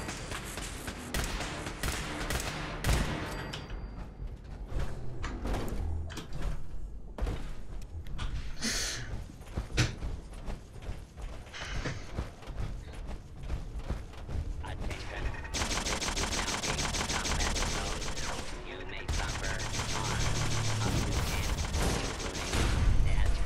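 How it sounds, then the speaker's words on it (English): Rapid bursts of laser turret fire in Fallout 4, dense crackling volleys and mechanical clatter continuing loudly for over twenty seconds with almost no pause. "Laser turrets hurt like hell."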